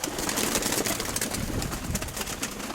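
Pigeons coo in a dovecote, including young speckle-tailed birds, with repeated soft murmuring calls and rustling close by, steady throughout and without speech.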